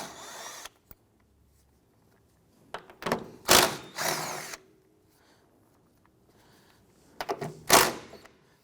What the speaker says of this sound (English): Using a 17mm deep socket, we're going to go ahead and remove the 3 nuts supporting the strut.